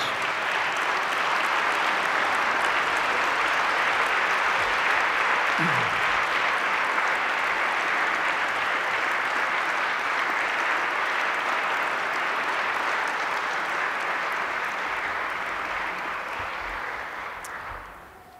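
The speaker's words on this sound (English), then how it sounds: "stand up and turn around and give them a rousing round of applause" Graduates at an admission ceremony give a rousing round of applause, a large hall filled with dense, sustained clapping that holds steady for a long stretch before fading out.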